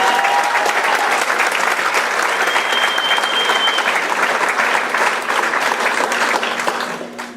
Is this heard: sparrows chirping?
no